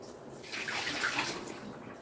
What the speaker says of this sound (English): I'm just going to pour the water out